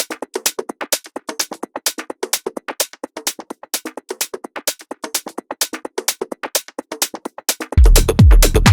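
Ojos Locos top loop for minimal tech house drums with a 30% auto pan, a fast, steady stream of crisp percussive ticks and shakers in a tight groove, alone, joined near the end by a heavy low bass hit.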